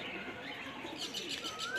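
Madras dasu breed pigeons, including white birds with young, cooing in a loft: soft, steady low calls close by, continuing without pause and with no talk.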